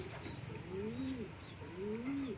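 Young racing pigeons coo in soft, rising-and-falling phrases, two or three clear calls close by over a low background murmur while they are being fitted with leg bands.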